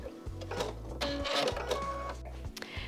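A sewing machine runs a short reverse stitch along the edge of a quilt-as-you-go strip quilt, its motor whirring steadily with rapid mechanical needle clatter, stopping and restarting briefly, close and moderately quiet.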